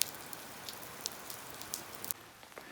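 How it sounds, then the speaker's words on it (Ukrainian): Steady rain patters on a surface during a break from digging cabbage, a dense even hiss with scattered sharper drop taps, moderately loud and with no voices. "Трошки дощ притих."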